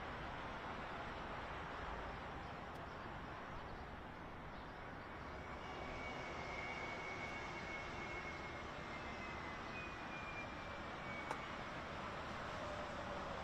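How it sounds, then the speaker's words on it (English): A fixed-wing airplane drones steadily overhead as a broad, distant rumble lasting throughout, fairly faint and even, with no talking. "Hear an airplane or something in the background."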